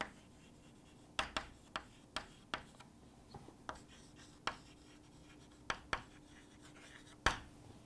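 Chalk or marker strokes tap and scrape on a board during a biology lecture, coming in short, sharp bursts spaced irregularly and fairly close, with no talking over them.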